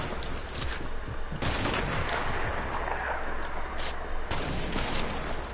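Video game shootout gunfire: dense, continuous volleys of shots with a few sharper bursts standing out, loud and sustained throughout with no talking.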